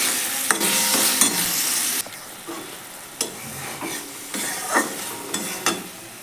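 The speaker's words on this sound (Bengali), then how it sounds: "এরপর আমি আম কাটাগুলো দিয়ে দিলাম।" Mango pieces frying in hot spiced oil for a fish curry, with a loud hiss at first easing to a steady sizzle while a spoon scrapes and stirs the pan in repeated strokes.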